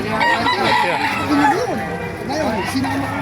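A rooster at a chicken market in Baliuag, Bulacan, crows loudly, its rising and falling call repeated a few times while people talk nearby.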